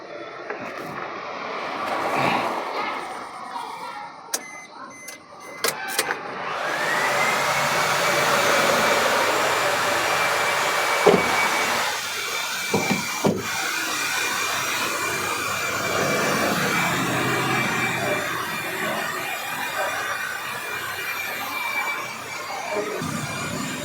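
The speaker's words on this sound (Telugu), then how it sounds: "ఏసీ ఇట్లా ఆటో క్లైమేట్ ఏసీ ఇది" Automatic climate-control air conditioning in a 2018 Maruti Suzuki Baleno diesel blows with a steady, loud fan whoosh inside the cabin, punctuated by a few clicks and thumps.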